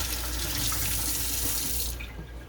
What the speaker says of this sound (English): now let's rinse my hands